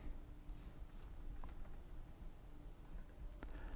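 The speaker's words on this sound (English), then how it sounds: "right here, we'll type in Ruth E. Nichols" Keystrokes on a computer keyboard as a name is entered into genealogy software, faint and quick, a soft patter of taps at an even pace over low room hiss.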